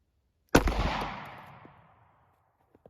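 A single 148-grain Fiocchi .38 Special jacketed hollow point fired from a snub-nose LCR revolver into ballistic gel at close range: one sharp, loud crack followed by a long decaying echo, with no talking.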